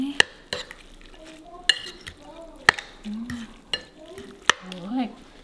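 Ingredients for Thai red curry coconut noodles, with fresh mint and lime, are mixed in a bowl: sharp, irregular clinks of a utensil ring out against quieter stirring, and a voice murmurs briefly near the end.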